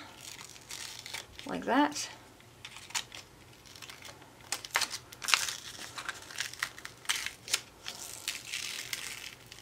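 Cricut-cut vinyl being peeled from transfer paper for a tile project, giving intermittent crinkling, crackling bursts of close plastic film pulled away, with a person speaking briefly.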